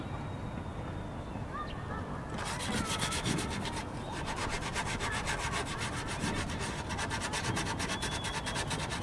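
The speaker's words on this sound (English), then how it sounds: "so I'm just going to wet sand it now." Hardened putty on a surfboard ding repair is being wet-sanded by hand. The close, continuous rough rubbing grows slightly brighter partway through and carries on steadily without speech.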